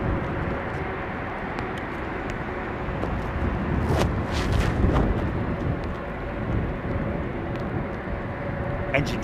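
A distant aircraft engine test at London Heathrow Airport, a steady broad roar with rumbling swells throughout, with a voice talking faintly over it.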